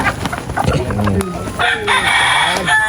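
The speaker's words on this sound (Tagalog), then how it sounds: "Ang tandang" A rooster crows loudly and close by, a long drawn-out call rising and falling, with other fowl clucking around it.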